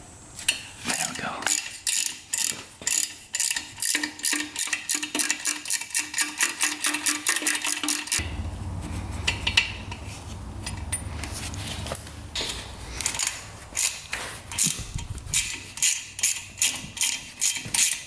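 A socket ratchet works a tight bolt on a rare 2-stroke motorcycle left 20 years in a barn, with long runs of close, rhythmic metallic clicking that pause briefly midway before resuming.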